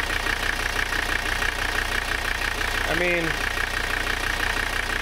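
A Mercedes 300CD diesel engine idles steadily with a constant low rumble and knock, while a person speaks briefly over it.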